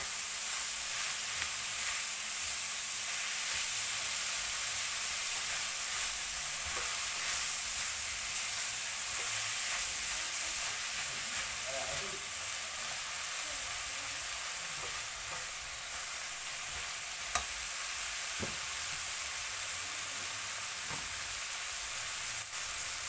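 Egg fried rice with tomatoes is stir-fried dry in a pan, a steady close sizzle lasting throughout with faint scraping from the stirring and occasional light ticks, no talking.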